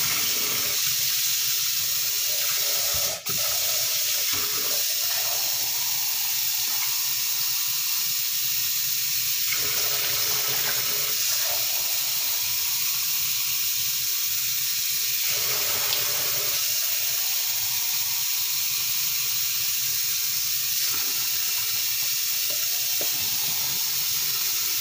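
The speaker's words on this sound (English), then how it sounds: "Cold water." Cold water runs from a kitchen tap in a steady, hissing stream that carries on for a long stretch, close and constant, with brief changes as the flow shifts.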